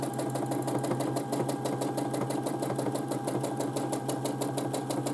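A sewing machine stitches steadily through free motion quilting, its rapid, even needle rhythm running loud and continuous throughout with no pauses.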